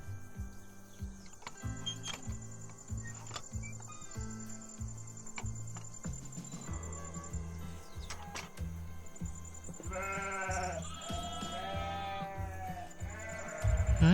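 Sheep and lambs on a Cotswolds farm bleat in a run of repeated calls, several voices overlapping near and far, with a steady insect-like buzz underneath and no talking.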